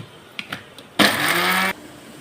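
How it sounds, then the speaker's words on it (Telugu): Mixer grinder whirring as a few garlic cloves are blended for a raw cashew curry: a loud, steady motor burst of under a second, preceded by a couple of light knocks and followed by quiet. "వేసుకొని మళ్ళీ ఒకసారి మిక్సీ పెట్టేసుకోండి"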